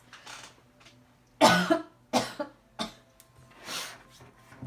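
A string of close, hoarse coughs, several in a row with short pauses, mixed with throat-clearing and heavy breaths.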